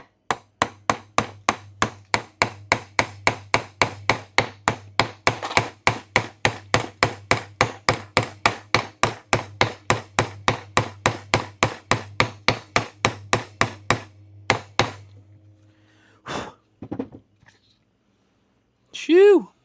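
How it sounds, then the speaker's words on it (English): Rapid hammer taps drive a part into a flight-sim throttle build, roughly forty sharp metallic strikes in a fast steady rhythm over fifteen seconds, loud and close, then a few isolated knocks and a brief voice at the end. "I might have to tap it in with a hammer."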